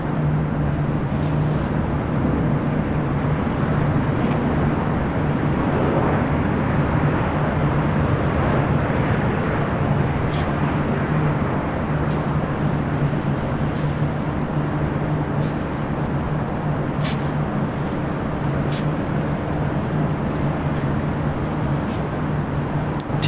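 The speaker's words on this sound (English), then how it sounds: "Flight 523, coming in from JFK in a brand new A321neo" A brand-new JetBlue Airbus A321neo arrives at LAX on a flight from JFK, its jet engines making a steady, moderately distant roar that drones on evenly without fading.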